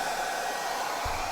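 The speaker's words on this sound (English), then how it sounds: "the blow dryer is FHI Heating Tools, and it was highly rated on Amazon" An FHI Heating Tools blow dryer runs continuously nearby with a steady, airy whoosh and motor hum, used with a round brush for salon-style styling, with no talking over it.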